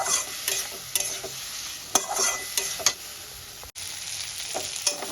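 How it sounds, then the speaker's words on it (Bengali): Spice paste sautéed in a pan for a katla fish curry, with crisp frying sizzle broken by repeated scraping strokes of a spatula, close up and without speech. "এবার এই মশলাটার সঙ্গে খুব ভালো করে কষাবো"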